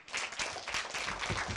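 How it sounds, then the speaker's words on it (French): A group of children at a lively kids' game circle applaud together, a dense burst of close hand clapping lasting under two seconds, with no talk over it. "applaudissez un coup"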